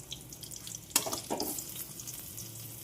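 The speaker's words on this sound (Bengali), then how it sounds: "দেখো আমাদের বেগুন ভাজছি" Eggplant fries in a pan with a steady, close sizzle, broken by a brief clatter of a utensil and a few light knocks.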